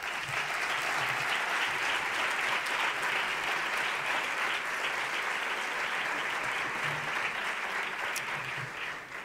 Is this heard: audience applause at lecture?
yes